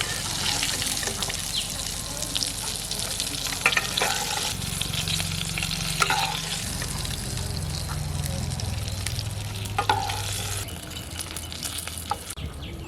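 Shrimp fritters (chingri bora) sizzle in hot oil in a pan, a steady close-up hiss dotted with sharp crackles and pops, with a low background hum underneath.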